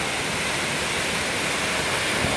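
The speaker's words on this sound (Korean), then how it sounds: "그리고 장마 이후에 엄청나게 시원한 물줄기가 흘러내리고 있습니다." Waterfall at Bukhansan swollen after monsoon rains, a dense continuous roar of falling water, steady and close, with no voices.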